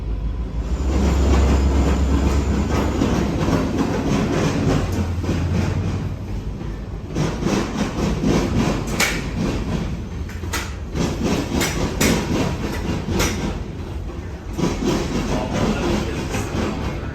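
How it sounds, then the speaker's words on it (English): A freight train rumbles past a former railroad tower for a long stretch, wheels clanking and clattering steadily with occasional sharp metallic bangs and squeals. "This train met the southbound manifest and would head north passing our tower"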